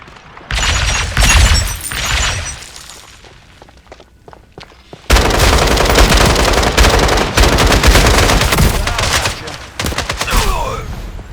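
Automatic and rapid gunfire in the shooter game FragPunk, with loud bursts through the first half, a brief lull, then dense, sustained firing layered with booms, thuds and shattering effects.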